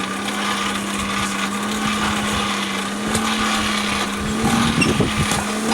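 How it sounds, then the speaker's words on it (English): A hand-cranked blacksmith forge blower forcing air into the fire, heard as a steady whirring drone with a constant low hum and rushing noise, loud and close. "you use a crank and this forces air down the line into the trays and then up through the fire"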